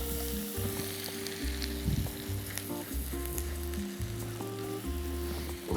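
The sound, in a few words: onion frying in butter in a pan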